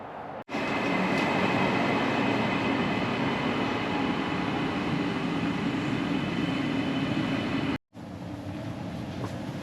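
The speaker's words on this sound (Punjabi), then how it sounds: "ਇਹ ਹੈ ਮੈਟਰੋ" Brisbane metro train running at speed, a steady loud rumble of wheels and carriage noise that fills the interior throughout, broken by two brief sharp cuts in the sound.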